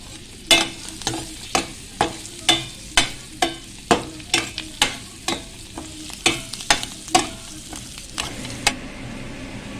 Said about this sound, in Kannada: ಗೋಲ್ಡನ್ ಕಲರ್ ಬರುವವರೆಗೂ ಈರುಳ್ಳಿ ಚೆನ್ನಾಗಿ ಫ್ರೈ ಆಗಿದೆ